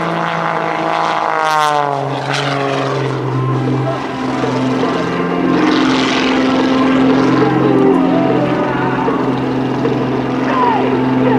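A Pitts S2B aerobatic plane roars through a Bulldog point roll at the 2006 NAS Willow Grove airshow, its loud propeller engine sweeping in pitch and then droning steadily and close.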